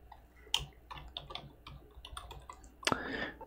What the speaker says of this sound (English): Now I can select my font and we'll type in